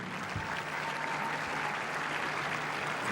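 A tennis crowd at a night quarterfinal of the Qatar ExxonMobil Open applauds in a dense, sustained wash of clapping that holds steady at full strength for the whole stretch, filling the arena with no talking.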